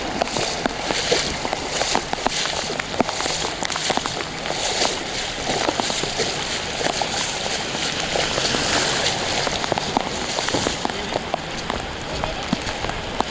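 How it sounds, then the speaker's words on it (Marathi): Heavy evening rain pours steadily over a flooded street, a dense continuous hiss of drops striking surfaces, loud and unbroken throughout with scattered sharper splashes. "संध्याकाळपासून जो पाऊस चालू झाला थांबलाच नाही आहे"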